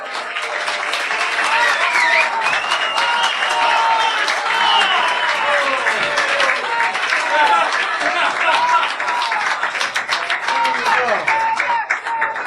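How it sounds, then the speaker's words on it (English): Sustained applause and clapping from a conference audience at a security talk, dense and steady for the whole stretch, with crowd noise and some voices mixed in. "I want you all to start clapping and ask for an encore"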